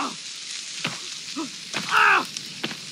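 Raw meat sizzles over a campfire in the survival video game The Forest: a steady frying crackle with scattered pops and a brief, brighter flare of sizzling midway through, with no voices.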